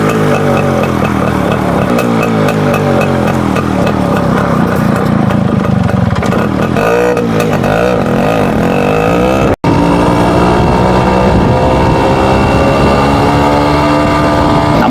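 Motorcycle carrying two riders climbs the hairpin bends of Yercaud hill, its engine droning loudly and steadily throughout with pitch shifts as it works through the turns, a brief dropout midway.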